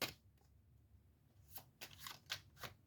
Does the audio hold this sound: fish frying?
no